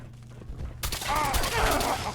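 A weapon fires in the video game Fallout 4. After a soft lead-in, a loud, dense burst of gunfire breaks out, with rapid overlapping shots and rumbling echo, and a voice is briefly heard underneath.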